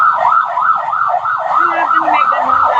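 A loud ambulance siren wails in a fast, repeating up-and-down sweep, close and continuous, with faint traffic underneath.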